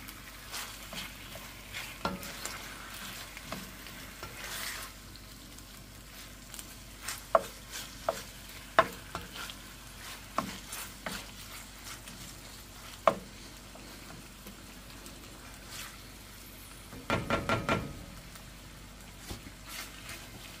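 Butternut squash stuffing is stirred and fries in a pot, giving a low steady sizzle with scattered scrapes and clinks of the utensil, then a brief cluster of louder stirring knocks near the end.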